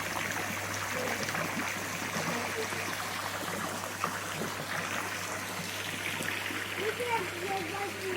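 Steady running water pours and splashes continuously into a swimming pool at moderate distance, with a low constant hum of the pool filter underneath.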